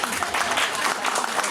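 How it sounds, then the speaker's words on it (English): An audience at a Sunday festival gathering claps in a quick, sustained round of applause, a broad crackling patter heard at moderate level throughout. "everyone please give a round of applause"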